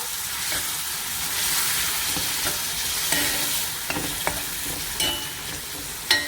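Mauritian rougaille tomato sauce sizzling and bubbling steadily in a pan, with occasional soft knocks and scrapes as it is stirred and smashed, close and continuous with no talking.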